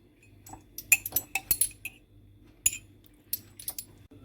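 A spoon stirs flour (maida) and baking powder in a mug for a microwave mug cake, giving scattered sharp clinks and taps against the mug in irregular bursts, close and fairly quiet.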